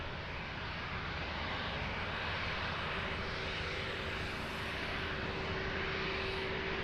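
A KLM Boeing 737 airliner at Lisbon Airport gives a steady, loud, broad engine roar with a faint constant whine, unbroken across the whole stretch.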